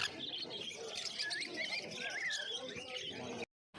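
Fischer's lovebirds in a caged pet market at Uluberia, their thin high chirps and twitters faint and overlapping under general market chatter.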